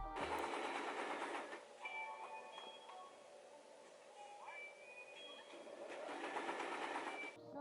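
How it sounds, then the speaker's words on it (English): A sewing machine whirs and rattles steadily close by, its mechanical hum continuous for several seconds, with faint tonal sounds in the background. "it's just kind of soothing for me to hear the sounds from my sewing machine"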